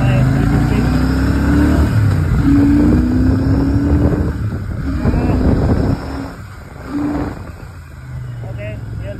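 A Royal Enfield Shotgun 650 twin-cylinder motorcycle is ridden at night, its exhaust droning low and steady under heavy wind buffeting, with someone talking over it and the engine note easing off toward the end.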